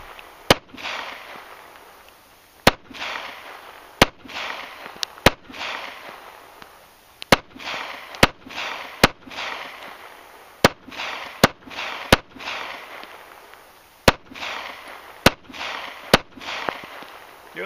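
Pistol shots fired during a precision shooting drill, three rounds per small target circle, loud sharp cracks spaced about a second apart in uneven clusters, each with a short echoing tail, and no talk between them.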